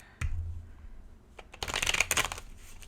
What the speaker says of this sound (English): I am still learning how to shuffle this way